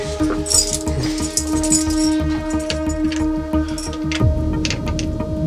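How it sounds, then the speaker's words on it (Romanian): Keys jangle and rattle steadily at a locked house door for several seconds, close and fairly loud, with a continuous metallic clinking. "Eu am chei."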